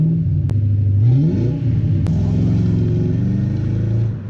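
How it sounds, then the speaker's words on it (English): A Ford Crown Victoria with Flowmaster exhaust starts up and revs, its loud, close engine rising in pitch then settling into a steady deep rumble, with two brief sharp clicks. "let me show you what a Crown Vic with Flowmaster sounds like"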